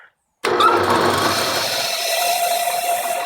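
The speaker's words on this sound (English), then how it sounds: "I really want to try and run it without the belt on it." A Rockwell 21-100 vertical mill's motor, running without its belt, switches on abruptly after a moment of silence and settles into a steady, loud mechanical hum.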